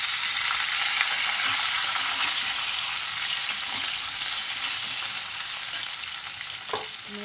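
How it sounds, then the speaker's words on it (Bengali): Ridge gourd and lightly fried potato cubes sizzle steadily in a hot pan, with occasional scraping stirs of a spatula and a brief clink near the end, no voices. "আলুটা হালকা করে ভাজা হয়ে গেছে, এর মধ্যে আমি দিয়ে দেবো ঝিঙেটা।"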